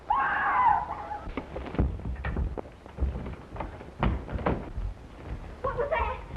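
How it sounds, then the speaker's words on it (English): A person screams loudly at the start, a shrill burst that is soon followed by thumps and talking, with a second cry near the end. "Where did that scream come from?"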